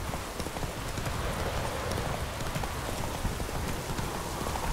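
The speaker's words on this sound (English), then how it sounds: "We're on our horse." Horse hooves in The Witcher 3 beating steadily in a continuous clip-clop as the horse rides cross country, with a dense, even wash of noise over the whole stretch.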